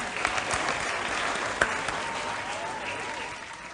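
Steady applause from a quiz championship audience greeting the teams' scores, a dense even patter of many hands clapping throughout with no voices over it.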